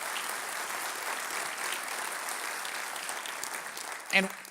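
A large audience applauds steadily for the Long Beach City Council at a civic business event, a dense, even wash of clapping that swells slightly near the end before a brief sharp sound.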